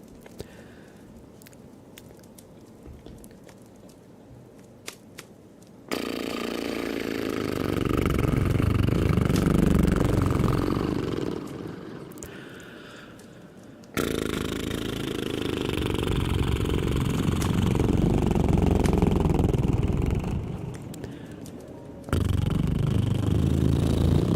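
A voice imitates a Subaru car exhaust, making long loud rumbling, sputtering bursts close to the mic, separated by quieter pauses with faint clicks.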